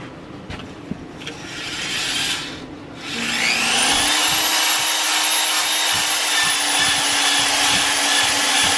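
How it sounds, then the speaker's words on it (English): A steady mechanical whir of a drill-driven hone running continuously inside a rusty engine cylinder of an Onan CCKA engine, starting up after a few seconds of quieter machine noise and holding an even, loud drone. "So I figured if I run the drill hone through it real quick and not take off a lot"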